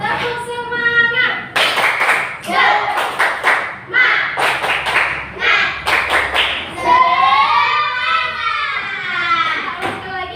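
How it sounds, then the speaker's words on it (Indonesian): Children in a classroom perform a rhythmic spirit-clap routine, with sharp, close clap bursts in patterned groups alternating with sung or chanted voices, ending on a longer chanted phrase. "Ayo kita mulai bareng-bareng. Tepuk semangat."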